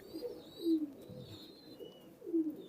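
Imported Oman Teddy pigeons, a mix of black and blue types, give soft low coos in two clear bursts with quieter murmuring between, fairly close and with no talk over them.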